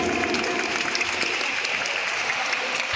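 Churchgoers at a nativity carol performance applaud the carol group, a full, even wash of clapping from a sizeable crowd that carries on without a break.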